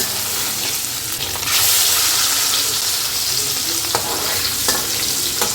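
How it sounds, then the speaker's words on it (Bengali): Hilsa fish sizzle loudly in hot oil in a pan, a constant crackling hiss with occasional sharper pops and spatters as the pieces fry close by. "আমি এই ফাঁকে মাছগুলো একটু ভেজে নিচ্ছি"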